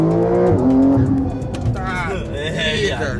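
A Porsche engine revs hard after the Sport Response button is pressed, a loud rising then falling engine tone with sweeping pitch, heard close and mixed with talking voices.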